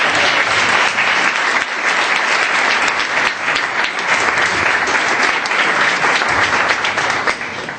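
Loud, dense applause from an audience at a conference session on the Malvinas and colonialism, sustained evenly and fading slightly at the end.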